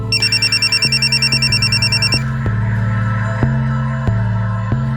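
A mobile phone rings loudly and close by, a bright electronic ringtone repeating in steady pulses over a throbbing tonal pattern, with no one speaking.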